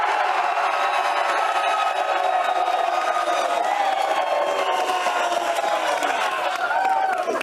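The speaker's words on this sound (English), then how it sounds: "And Chris McGregor says this crowd is going to top yesterday's crowd" A large live crowd at a sports talk road show roars and cheers continuously, a dense, loud wall of voices with whoops rising over it throughout.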